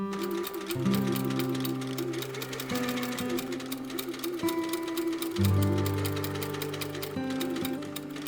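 A sewing machine stitches sleeve pieces together for a holiday dress, its motor humming in steady bursts that shift pitch as the speed changes, with a dense needle clatter running close and loud throughout.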